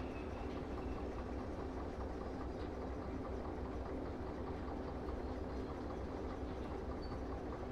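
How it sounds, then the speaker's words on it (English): Train running in the railway game Derail Valley, a steady low rumbling drone of rolling stock and engine, constant and even throughout, fairly quiet with no talk. "this train is running"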